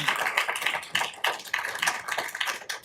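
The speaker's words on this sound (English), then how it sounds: "Yeah, he deserves a round of applause." Applause at a Tucson city council meeting, a dense rattle of many hands clapping close by that swells and dips in uneven waves for about three seconds, with no talking over it.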